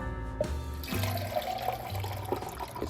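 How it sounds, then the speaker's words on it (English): Water runs steadily from a tap into a pot as it is rinsed out, a continuous splashing hiss with small gurgles and clinks from the pot beneath it. "Get some water inside there. Wash it out."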